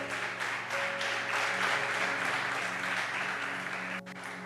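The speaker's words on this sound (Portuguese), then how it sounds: "Dê um aplauso bem forte ao Senhor" Congregation in a church applauding strongly, steady sustained clapping from a crowd at moderate distance with a faint musical hum underneath, continuing throughout without a break.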